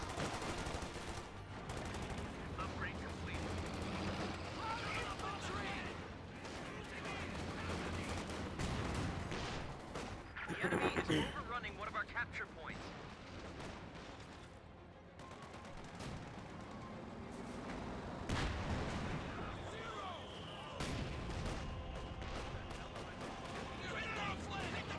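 Company of Heroes 2 battle sounds: rattling machine-gun bursts and heavy booms of artillery and tank guns go off continuously, with a voice narrating over the combat.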